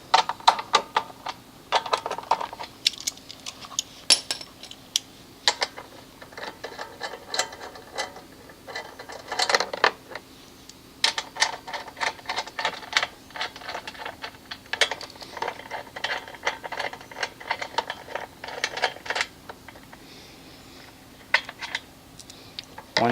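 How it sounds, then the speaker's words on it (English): Screws being backed out of the recoil starter housing on a Honda HRX217 lawn mower, a series of close, quiet ratcheting clicks and scattered small metallic ticks with pauses between bursts. "remove the 3 screws that hold the recoil start system"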